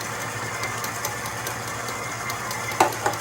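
An electric mixer steadily beats cheesecake batter with cornstarch on low speed, a continuous motor whir with a couple of brief clinks near the end.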